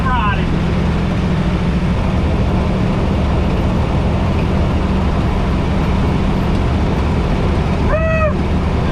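A 1952 Mercury with a supercharged engine and loose steering drives along with a loud, continuous low roar, and a short voiced whoop cuts through near the end.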